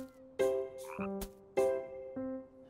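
A frog croaks in a steady series of four separate, tonal, resonant croaks, close and clear with silence between them.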